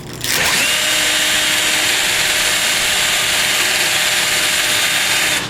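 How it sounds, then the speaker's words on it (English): A power drill whirs steadily at high speed with a constant abrasive hiss of 100-grit sandpaper held against a spinning rod, loud and continuous throughout. "turn the drill on, and then I hold the sandpaper"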